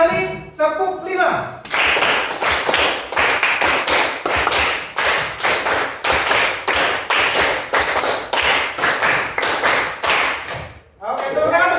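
A class of pupils in an Indonesian classroom claps out a rhythmic counted pattern, a long run of loud, closely spaced claps, with a voice speaking briefly before and after.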